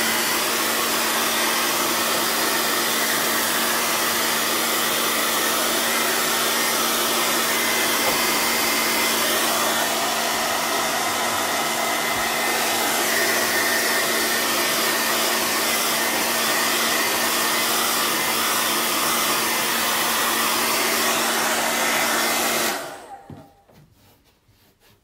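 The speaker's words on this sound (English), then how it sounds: "dry it off with a hairdryer" Hair dryer blowing on wet acrylic paint, a loud steady roaring whoosh that runs unbroken for over twenty seconds, then cuts off.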